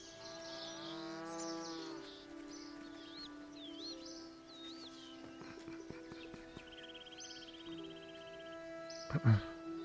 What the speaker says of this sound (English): There's a dairy cow or something?